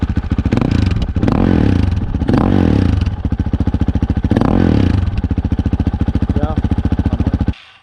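A Honda CRF450L fitted with a modified Yoshimura RS4 quiet exhaust revs up close and loud, its rapid firing pulses swelling through several throttle blips before the engine cuts off abruptly near the end.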